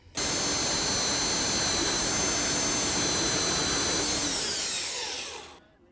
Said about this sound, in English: this bandsaw is so much faster